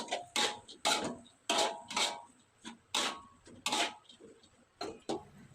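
A utensil stirs cooked papaya flowers with a splash of water in a frying pan, giving a steady run of sharp metallic clacks and scrapes at an uneven rhythm, fairly close and moderately loud with no talking.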